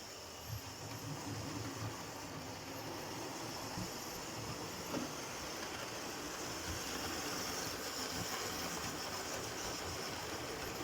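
A model railway 9F locomotive runs along a track loop, giving a faint, steady whirring rumble with a soft hiss, continuous and fairly distant.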